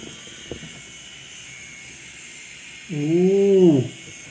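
An Enchen K8 electric shaver running against a beard: a steady buzzing hum starts near the end and lasts about a second, close and fairly loud over quiet room noise.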